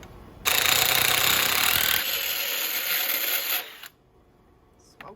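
A drill bit bores into the metal of a barn-find Edsel, a loud, steady high-pitched grinding whine that holds for several seconds, eases slightly, then cuts off into quiet.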